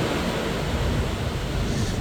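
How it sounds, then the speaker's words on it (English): Waves crashing into the shore on the Bay of Biscay near La Coruña, Spain, heard as a steady roar of surf and spray mixed with buffeting wind noise, continuous and loud throughout. "you can see here all the spray from the waves crashing into the land."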